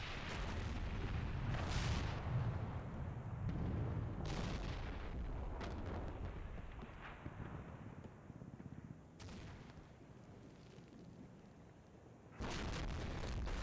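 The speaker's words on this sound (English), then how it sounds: "Oh, and some shots." Gunfire and explosive booms from a Combat Mission World War II tank battle game with Sherman tanks, heavy rumbling blasts with sharp broadband cracks scattered through, a loud burst at the end.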